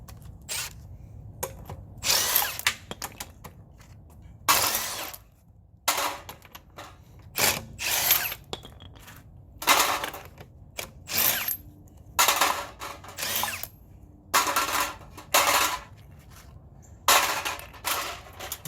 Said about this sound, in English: I'm going to use my little hex impact there from Milwaukee